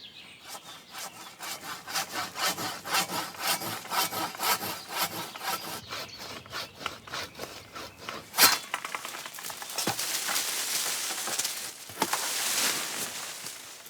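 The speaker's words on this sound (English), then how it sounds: "Here I'm pruning a nice oak tree." A hand saw pruning an oak tree on a mixed woodland plot in the Landes forest: rapid rhythmic back-and-forth rasping strokes, close and steady, then a crack and rustling branches near the end.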